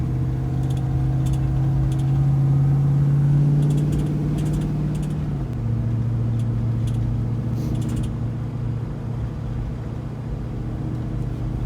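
A 1977 Ford F-250 truck with a swapped Coyote engine cruises on the freeway at about 80 mph and low revs, a steady low engine drone and road hum with a slight pitch drop midway, with faint clicks over it.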